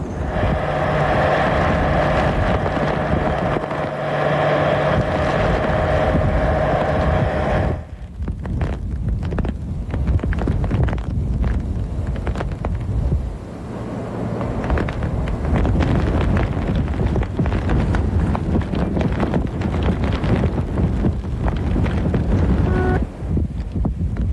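Strong, roaring Hurricane Andrew wind with gusts around 145 buffets the microphone continuously, with loud rumbling gusts and a brief lull near the middle before it surges again.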